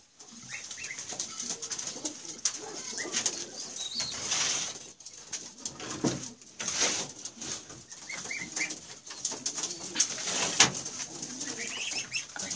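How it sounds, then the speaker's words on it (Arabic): Sabouni pigeons coo softly and repeatedly nearby, with occasional bursts of wing flapping scattered through the recording. "هوري لك الحمامه اللي تفرخها عشان تطلع لك الصابوني ده"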